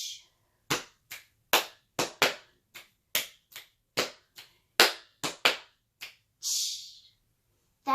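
A single performer beats out a body-percussion rhythm of stomps, finger snaps and claps. The sharp, close hits come one by one at a lively, uneven pulse and end with a brief breathy hiss, then silence.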